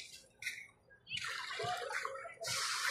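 Water washing along the shore at Manila Bay's Dolomite Beach, a splashing rush that swells in waves over a few seconds, fairly close, with brief faint voices in the background.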